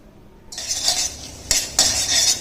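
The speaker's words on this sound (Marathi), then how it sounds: "कांदा टॉमॅटो थोडासा परतून घेऊया" A spoon stirs onion and tomato sautéing in a pressure cooker for pav bhaji, with bright metallic scraping strokes that start abruptly and repeat in close, loud bursts over a light sizzle.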